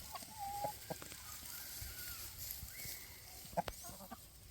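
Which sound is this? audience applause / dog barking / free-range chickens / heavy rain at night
free-range chickens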